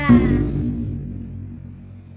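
A single strike on a DIY China-style cymbal effect made from a Tanggo wafer tin lid, a close metallic hit followed by a long, buzzing, wobbling ring that slowly dies away.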